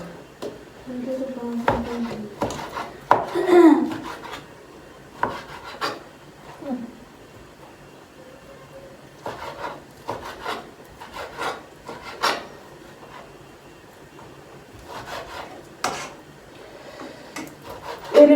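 Meat being chopped on a board with a knife in a home kitchen, scattered sharp knocks and scraping strokes at irregular intervals, fairly quiet, with some faint background noise.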